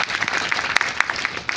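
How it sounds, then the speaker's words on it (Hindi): Applause from the gathered guests at a postal division retirement ceremony, a steady patter of many hands clapping together with a few sharper claps standing out, continuous through the short stretch. "ताली के साथ"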